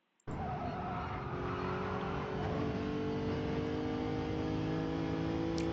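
A race car engine screams at full speed in Gran Turismo during a 1-hour Le Mans race, a steady loud roar with rising engine pitch that holds without pause from start to finish.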